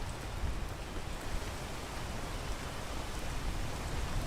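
Rain pours down in the climbing game PEAK as an even, broadband hiss that holds steady for several seconds, a constant wash with no distinct drops or voices.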